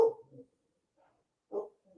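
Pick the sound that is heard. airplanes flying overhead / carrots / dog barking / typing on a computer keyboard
dog barking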